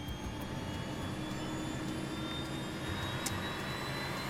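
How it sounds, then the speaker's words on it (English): Jet aircraft engines throttling up, heard from inside the cockpit as a steady, loud, broadband roar with a constant high whine running through it, no voices. "he records the sound of the engines from inside the cockpit"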